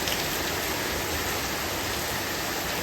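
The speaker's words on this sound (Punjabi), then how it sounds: "ਮੀਂਹ ਦਾ ਦੇਖੋ ਤੁਸੀਂ ਕਿਹੜੀ ਸਪੀਡ ਨਾਲ ਪੈ ਰਿਹਾ" Heavy monsoon rain pours down steadily in a dense, unbroken hiss, close and loud with no pauses, during a downpour in which someone is out under an umbrella.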